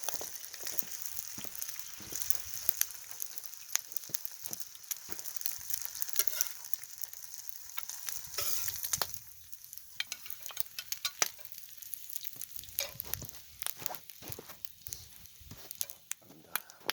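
Bacon sizzles and crackles in a pan over an open fire, a constant hiss with sharp pops and occasional scraping of the pan, loud and close throughout.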